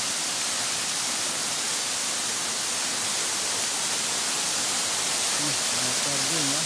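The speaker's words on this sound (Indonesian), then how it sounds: "Guys, air terjun guys." A high waterfall roars as a steady, dense broadband rush that fills the whole clip at constant loudness, with a voice speaking faintly beneath it near the end.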